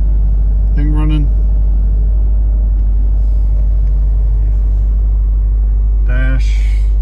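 A Subaru WRX STI engine running, heard from inside the car as a deep, constant low rumble, with brief bursts of a voice talking near the start and end.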